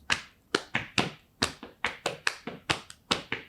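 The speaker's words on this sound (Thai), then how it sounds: "พี่ก็เคาะเงี้ยเคาะที่โต๊ะด้วยนะก็เหยียบเท้าเงี้ย" Knuckles rap on a desk in a steady rhythmic pattern, a dozen or so close, crisp knocks in quick succession with no talking.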